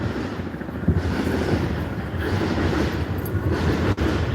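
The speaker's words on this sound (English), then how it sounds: "You hear that? That's my train." A passing train makes a steady, loud rumble that holds for several seconds, with a windy, broadband roar.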